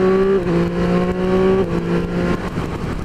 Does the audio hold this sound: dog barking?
no